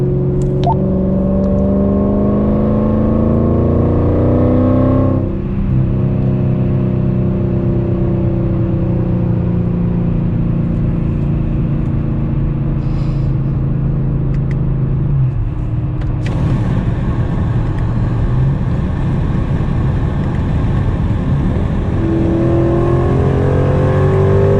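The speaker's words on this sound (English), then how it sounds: "I said your car sounds so good" Loud Mercedes E55 AMG V8 with a larger throttle body and long tube exhaust, heard from inside during a drive, roaring through repeated hard accelerations with rising pitch, brief shift dips and a steady rumbling drone throughout.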